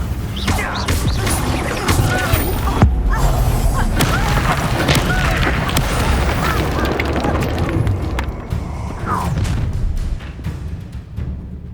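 An Incendio fire spell erupts in Hogwarts Legacy during a battle, a booming burst of flame amid crackling and crashing combat noise. Brief speech and a swell of music run alongside it.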